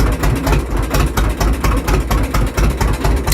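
A John Deere Model D tractor engine runs steadily and loudly up close, its regular, heavy low-pitched beat pulsing without pause and with no voices over it.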